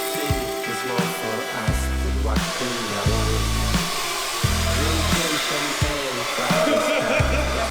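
A hair dryer whirs steadily in bursts, loud and close, with clattering and thumps layered over its steady hum.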